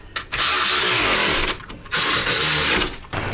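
A power tool runs bolts down on a trike's shock mounts during a suspension upgrade with DK Customs NEXGEN shocks and blue Loctite, giving three loud, close, steady whirring bursts separated by short pauses, with no talking.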